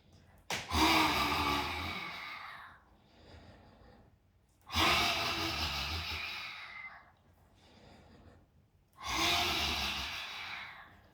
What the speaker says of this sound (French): inspire, expire, inspire, expire, inspire.